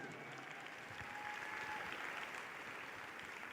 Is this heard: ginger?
no